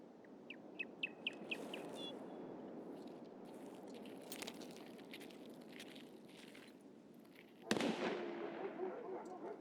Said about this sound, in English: The gunshot and the dogs spooked me just then.